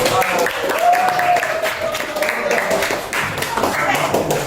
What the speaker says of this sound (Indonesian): Kita berikan tepuk tangan semuanya untuk diri sendiri.